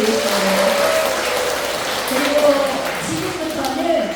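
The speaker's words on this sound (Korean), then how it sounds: "큰 박수 한번 보내드리겠습니다" Applause from a seated audience at a Korean talk, steady clapping across the whole stretch with a faint voice and tonal sounds layered on top.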